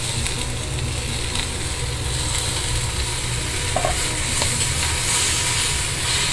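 Onion and tomato fry for a spicy tomato chutney in a pan, a steady loud sizzle with soft stirring scrapes running throughout, up close and without speech.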